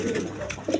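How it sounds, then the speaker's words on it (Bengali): A pair of spangled German Modena pigeons cooing softly and continuously for under a second, the low throaty coo fairly close, with a brief louder swell near the end. "এইখানে এক পেয়ার আপনার জার্মান মডার্না কবুতর আছে"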